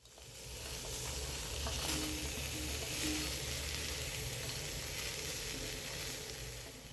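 Continuous soft sizzling and hissing of spices dry-roasting on a hot griddle, with occasional faint scraping as they are stirred, steady and fairly quiet.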